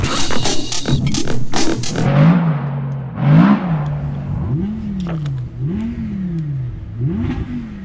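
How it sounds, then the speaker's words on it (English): Racing car engines rev loudly and close by at a motor racing event, with a dense roar first and then a series of rising-and-falling revs that come in a steady rhythm. "The sound of engines revving in the background."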